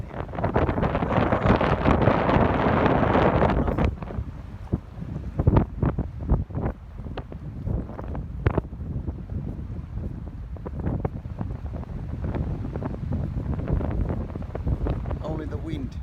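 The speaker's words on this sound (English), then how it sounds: "Only the wind and water, sound of sea." Wind and sea water outdoors on a fishing trip, with a strong steady wind roar for the first few seconds that then drops to softer gusts and lapping water, broken by scattered knocks and thumps nearby.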